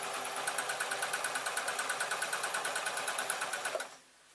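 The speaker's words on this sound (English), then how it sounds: "now I'm literally just going to run the sewing machine down" A sewing machine runs steadily down a long folded jelly roll fabric strip for a tote bag, its rapid even needle rhythm chattering close and clear before stopping abruptly near the end.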